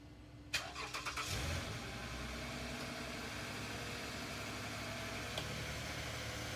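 A Toyota Sienna minivan awaiting repairs cranks with a rapid whirring starter for about a second, catches and settles into a steady, loud idle that runs to the end.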